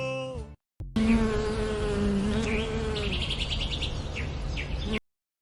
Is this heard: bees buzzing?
yes